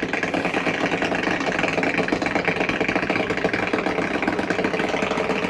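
Slide-out on a 2022 Catalina 333RETS RV moving in or out, its motor giving a steady mechanical whir while the rubber wipers rub along the wall, continuous and moderately close, with no talking.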